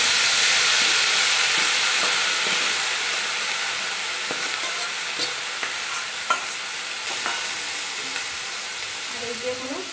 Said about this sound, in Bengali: আমার এখানে ফোড়নটা হয়ে গেছে, আমি সেদ্ধ করা ফোড়ন দিয়ে দিচ্ছি।